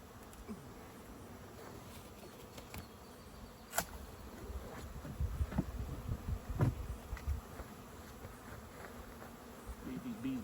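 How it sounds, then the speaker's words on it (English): A honeybee swarm clustered in a tree gives off a faint, steady buzzing. Louder passes from bees flying close by rise over it now and then, and there is one sharp tap. "See those bees landing on there?"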